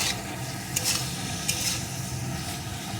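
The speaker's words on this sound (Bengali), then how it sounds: "এইভাবে কিছুক্ষণ ভাজা হতে থাক" Cauliflower coated in gram flour frying over low heat in a pan, a soft steady sizzle with a few brief scraping stirs, close and fairly quiet, with no voices.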